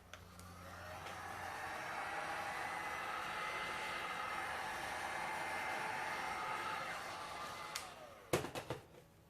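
A heat tool blows steadily on a resin geode board, a continuous broadband hiss that swells and holds for about eight seconds before cutting out, followed by a few short clunks.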